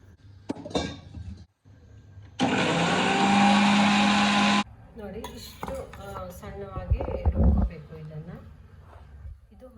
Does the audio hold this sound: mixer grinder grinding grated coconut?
yes